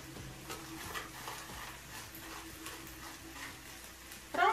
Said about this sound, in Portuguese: Agora eu vou deixar fritar mais um pouquinho.